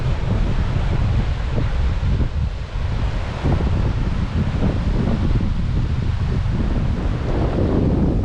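Steady wind roar buffets the microphone on a rocky shoreline at Abalone Cove, with low surf washing in underneath, continuous and fairly loud with no talk.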